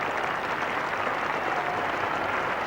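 A cricket crowd at a 1985 England versus Australia Test match applauds a batsman as he leaves the field after scoring 146. The clapping is dense and sustained, steady throughout at a loud level.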